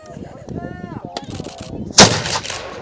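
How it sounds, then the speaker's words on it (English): A 1465 Burgundian cannon of about 2-inch bore fires once outdoors with a loud, sharp blast and a rumbling tail, after faint background chatter and a brief whistle-like tone. "1465 Burgundian. About a 2-inch bore?"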